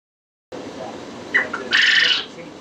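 Quail on a quail farm, a short burst of small bird calls after a moment of silence, with a couple of brief chirps followed by a louder, bright sustained call, fairly close.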